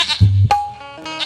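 A goat bleats once in a close, wavering cry, followed by a thinner, higher bleat as the call trails off, with no talking.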